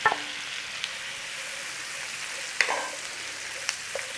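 Peppers frying in a pan for a chicken and sausage one-pot dish, a steady close hiss of sizzling broken by a few small clicks and stirring knocks.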